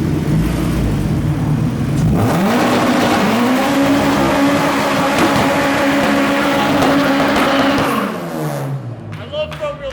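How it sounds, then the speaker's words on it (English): A front-wheel drive car does a burnout, its engine revving hard then holding a high, steady roar with tire squeal before dropping off near the end, loud and close. "I love front-wheel drive burnout."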